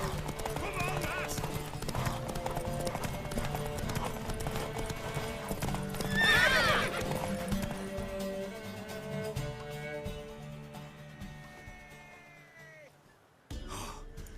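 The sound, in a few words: horse hooves and neighing while riding, video game Witcher 3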